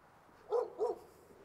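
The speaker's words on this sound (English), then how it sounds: "Ah, here is the dog now." A dog barks twice in quick succession at a distance, faint against quiet outdoor street ambience during a walk in São Roque, Ponta Delgada, on São Miguel in the Azores.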